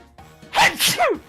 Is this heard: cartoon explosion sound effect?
no